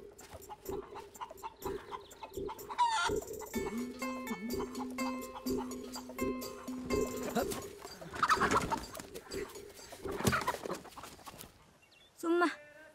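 Rooster and hens in a rural Tamil village setting clucking and cooing with bird calls, mixed under people talking, with a louder burst of fowl sounds near the end.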